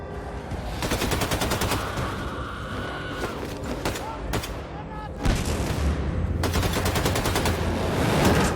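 Rapid bursts of machine-gun fire and gunshots from a firefight against enemy soldiers in The New Colossus, loud and nearly continuous, with heavier volleys toward the end.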